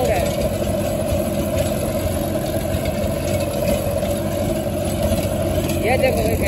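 Mahindra 265 DI tractor engine running steadily while driving a 7 ft rotavator, a continuous loud mechanical drone with a busy low rumble and no break across the whole stretch.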